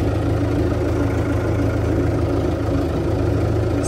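A tractor engine idles nearby with a steady, low, even throbbing hum, without talk.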